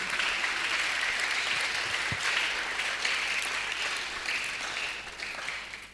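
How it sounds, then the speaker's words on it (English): Sustained applause from an audience at an academic lecture on theological education, a steady dense wash of clapping that holds fairly even for the whole stretch before tapering slightly at the end. "I think we have to clap again in appreciation"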